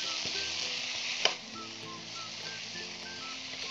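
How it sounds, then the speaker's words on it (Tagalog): Seeded tomatoes sauté in a pan with garlic and ginger, giving a steady, fairly quiet sizzle and frying hiss with a few stirring scrapes and one brief clink of a utensil. "Dito ko na ilalagay ang 4 na pirasong kamatis, tinanggalan ko ng buto. Tapos sabay sa pagisa."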